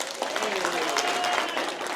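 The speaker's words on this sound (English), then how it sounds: "they're going to clap for you" Keynote audience in Nairobi clapping briefly, a short burst of crowd applause with a voice talking over it.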